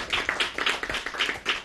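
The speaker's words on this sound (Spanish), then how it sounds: "Vamos a darnos un aplauso" Secondary-school students and audience at a school event give a short burst of hand claps, quick uneven slaps close by with no talk over them.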